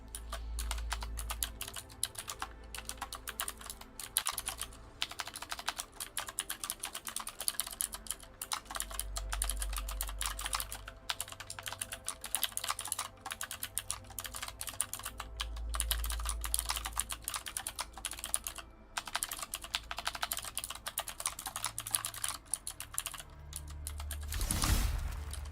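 Rapid, steady typing on a computer keyboard, loud and close, with dense clicking keystrokes running for the whole stretch and no voices.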